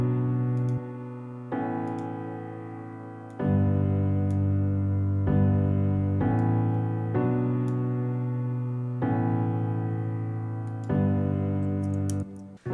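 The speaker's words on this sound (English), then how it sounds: "the chords that I'm going to be using sound like this." A piano plugin plays a slow chord progression of sustained, thick chords, each held for one to two seconds before changing, clear and alone with no voices.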